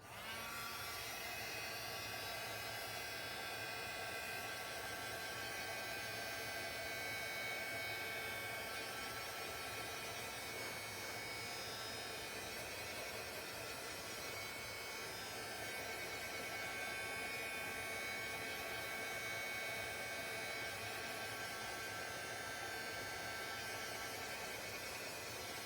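A hair dryer blows on a journal page, a constant, even whooshing drone with a faint hum that runs unbroken throughout. It is fairly quiet, with no talk.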